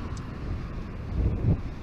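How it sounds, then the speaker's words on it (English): Wind blowing across the microphone on a windy bike ride, a steady low rumbling buffet that swells louder near the end, with no voices. "Wow, it's really windy today."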